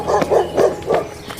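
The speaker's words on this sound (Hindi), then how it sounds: "हमारा सीनू जोर जोर से भौंक रहा है" A pet dog barks loudly at night in a house, giving four or five sharp, evenly spaced barks close by, with no other sound.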